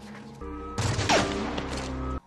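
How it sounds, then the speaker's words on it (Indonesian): Gunfire crackles through a film battle scene between a SEAL team and a criminal gang, dense overlapping shots bursting in loudly over a sustained musical score, with no voices. "Kontak senjata kembali terjadi."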